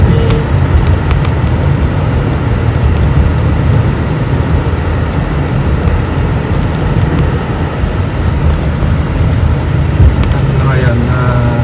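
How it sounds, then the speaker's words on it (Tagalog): Dense road traffic rumbles steadily around a vehicle in Los Angeles, a continuous low roar of engines and tires with occasional brief rattles, while people talk. "Masyado matraffic ngayon."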